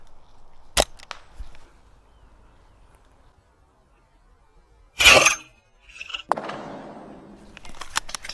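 Single scoped rifle shot during a milsim game, a sharp close crack followed by a faint echo, then quiet outdoor ambience with later rustling and louder movement noises.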